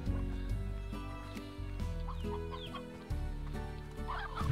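Briar hens in the Slime Rancher video game cluck in short, repeated bursts over a steady musical background.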